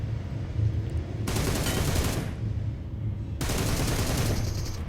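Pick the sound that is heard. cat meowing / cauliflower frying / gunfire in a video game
gunfire in a video game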